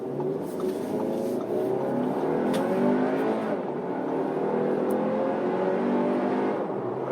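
A 2019 Audi Q3 accelerates on a late-night road, its engine a steady, rising hum heard from inside the cabin, with a smooth drone and some tire and wind noise.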